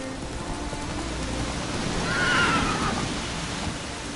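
Roach, Geralt's horse in The Witcher, lets out a single neigh in the middle of steady rain. The whinny rises and fades over a couple of seconds and stays moderately close.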